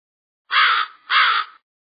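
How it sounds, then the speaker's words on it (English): Two harsh, raspy caws from a raven in quick succession, close and clear against silence. "Raven."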